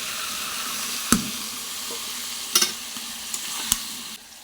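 Taro stolons (kochur loti) frying in a pan, a continuous sizzle broken by a few sharp spatula knocks and scrapes, close and fairly loud, ending abruptly.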